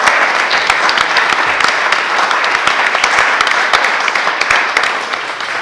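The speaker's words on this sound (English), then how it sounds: "Let's give them a round of applause as well." An audience at a California Studies center event gives the staff a round of applause, with individual claps clearly distinct within a steady, fairly close ovation that lasts several seconds without talk.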